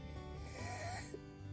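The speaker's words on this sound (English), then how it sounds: "as you hear me cough" A single sharp cough bursts out loud and close at the very end, after a stretch of quiet room tone.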